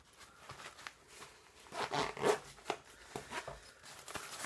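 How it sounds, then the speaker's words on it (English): A small hiking backpack's zipper is pulled in several quick, rasping strokes, close and fairly soft, with light rustling of fabric around it. "I can zip it back up"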